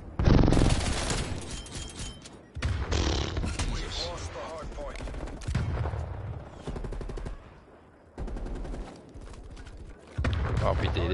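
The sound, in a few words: RPD machine gun firing in a video game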